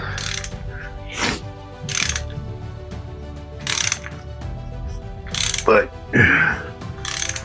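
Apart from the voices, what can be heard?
short ratchet tightening LS3 lower pulley bolt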